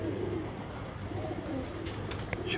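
A pigeon coos softly and steadily against a faint, continuous background hum, the low, rolling calls staying quiet and somewhat distant throughout.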